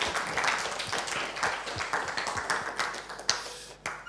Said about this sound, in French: On peut l'applaudir encore une belle fois.